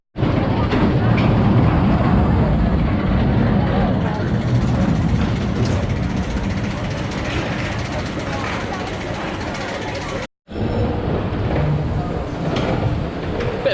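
Continuous rumbling roar of the Avalanche bobsled roller coaster train at Blackpool Pleasure Beach running on its track, loud and close, with a brief dropout near the end.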